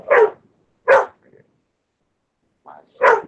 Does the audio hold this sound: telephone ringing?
no